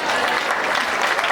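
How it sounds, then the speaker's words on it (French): Dense, steady applause from a crowd at a school open day, a brief continuous burst of many hands clapping together. "Un tonnerre d'applaudissements."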